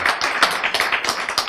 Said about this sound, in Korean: 우리 박수 한번 보냅시다.